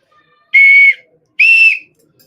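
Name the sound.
two-note scout whistle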